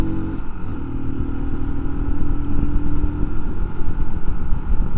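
A MUTT 125 adventure motorcycle pulls away uphill on a cold engine, its loud, close single-cylinder note droning steadily with a rough, labouring throb.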